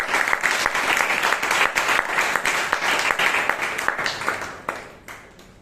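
A room of Toastmasters club members claps for a speaker, loud and close at first, then thinning into a few scattered claps as the applause tapers off.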